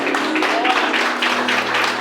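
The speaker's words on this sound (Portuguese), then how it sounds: "Dá uma salva de palmas, igreja, em nome de Jesus." A church congregation applauds briefly, a short burst of clapping with a faint voice underneath.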